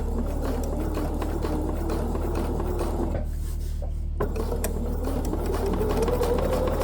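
A sewing machine drives quickly through fusible raw edge applique on a quilt, a continuous close mechanical whir with one short break before it resumes.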